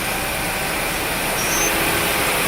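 A Pinnacle L-210 CNC lathe spindle spinning at speed gives a loud, steady broadband whir with a constant hum and no breaks, no voices over it.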